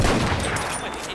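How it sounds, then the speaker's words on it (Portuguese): Dense gunfire in the video game Battlefield 1, a continuous rattling burst of overlapping shots filling the short moment, loud and close. "Nossa, que tiro."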